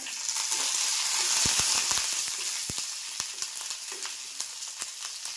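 Green chilies and curry leaves sizzle and crackle in hot oil while batter-side dosa seasoning is prepared, a close, bright hiss with sharp pops scattered throughout that gradually softens.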